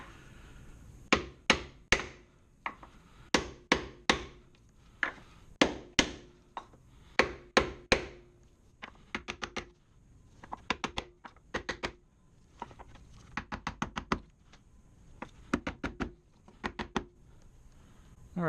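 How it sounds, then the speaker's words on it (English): A big hammer pounds a block of wood against the mushroomed strut tower of a 2002-2006 MINI Cooper, delivering rapid bursts of sharp, hard thuds in uneven groups with brief pauses between them, close and fairly loud. "I'm going to pound this mushroom strut tower back in place a little bit, and I'll just use a block of wood and a big hammer."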